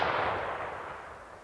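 A black powder round fired from an 1873 Trapdoor Springfield rifle: the clip opens on the loud shot, whose broad, rumbling boom fades slowly over the following second and a half, heard alone.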